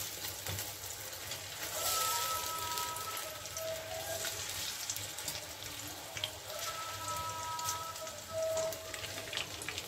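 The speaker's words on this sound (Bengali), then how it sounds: "আমার ভাজা হয়ে গেছে, এখন এগুলোকে আমি তুলে নিচ্ছি" Rasgulla koftas frying in hot oil, a continuous dense crackling sizzle resembling rain, steady throughout at moderate level.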